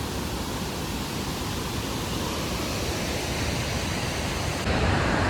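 Tarabu waterfall swollen after heavy rains, a loud, steady broadband roar of falling water filling the whole stretch without a break, swelling slightly louder near the end with no voices.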